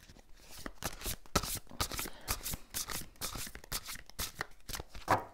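Playing cards being shuffled and drawn for a card reading, a steady run of crisp riffling flutters and slaps, close and fairly quiet, with no talk over it.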